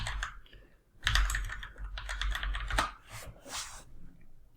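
Quick bursts of keystrokes on a computer keyboard while a search term is typed, close and clear, with rapid clicking runs separated by brief pauses and no talking.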